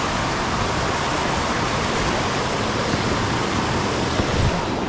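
A waterfall in a forest stream setting, with deep holes carved by the falling water, roars as a steady, loud broadband rush throughout, with no talk over it.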